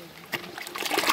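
Mineral spring water trickles and splashes close by at a natural spring, a brief liquid dribble that grows louder toward the end.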